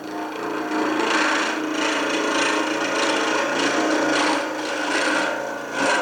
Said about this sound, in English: what I've also got is a bowl gouge that's got a tungsten carbide tip to it